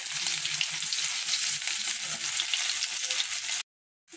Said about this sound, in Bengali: আর দিয়ে দিচ্ছি এর মধ্যে 1 টিস্পুন কাঁচা লঙ্কা কুচি আর 1 টিস্পুন আদা গ্রেট করা দিয়ে